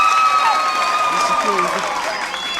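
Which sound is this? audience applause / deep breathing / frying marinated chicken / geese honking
audience applause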